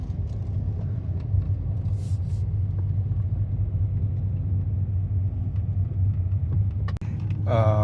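A BMW 530 E61 wagon with a slight misfire, heard from inside while driving: a steady low engine and road rumble throughout, with a brief rattle near the end and no one talking.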